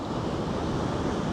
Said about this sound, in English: where the waves are breaking